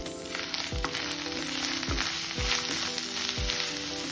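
Ground coriander and garam masala frying in a pan for pulao, a continuous near sizzle punctuated by four regular dull knocks of a spoon against the pan, with no voices.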